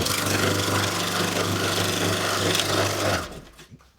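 A new pro food processor running, probably chopping jalapeños for pickling: a loud, steady motor whir with a rough, grinding texture that cuts off abruptly near the end.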